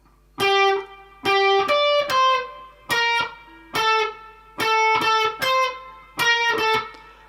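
Electric guitar picks out the opening two bars of a meme tune: a run of clean, sustained single notes in a steady rhythm, each ringing briefly before the next, played alone without talk.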